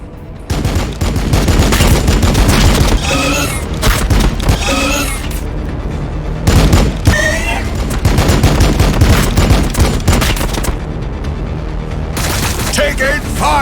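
Bursts of gunfire and heavy booms from Blood Angels forces in the strategy game Warhammer 40k: Battlesector, loud sustained volleys with brief lulls, and voices call out between the barrages.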